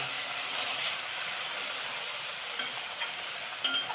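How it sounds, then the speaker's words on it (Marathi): Onion and tomato with turmeric and salt sauté in a pan, a steady close sizzle with a few stirring scrapes and knocks toward the end, and no talking. "आता दोन मिनटं हे छान परतून घेऊया आपण कांदा टॅमॅटो एकदम नरम पडेपर्यंत"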